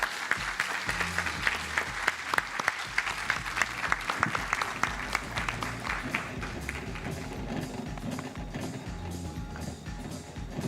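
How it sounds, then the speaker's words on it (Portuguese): A seated audience at a data science panel gives the speakers a round of applause: many hands clapping briskly and unevenly, with some sharp close claps standing out, a faint low murmur beneath, and the clapping gradually easing. "Uma salva de palmas para eles, por favor."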